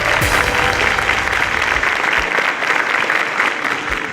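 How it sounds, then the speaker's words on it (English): An audience applauds finalists of a national science competition in a studio setting, the clapping loud, dense and sustained throughout with no voices over it. "A round of applause for them."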